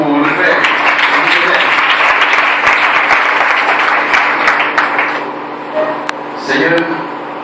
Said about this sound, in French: Une acclamation pour le Père.